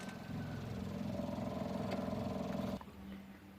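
A car engine idles with a vacuum leak at an intake manifold port. The low, steady hum is fairly quiet and changes character abruptly near the end.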